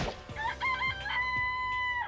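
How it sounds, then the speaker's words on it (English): Chickens in the Danganronpa: Trigger Happy Havoc video game make a short run of bright, tonal clucking and crowing-like calls over a quiet game backdrop, with no talk. "this place even has chickens, huh?"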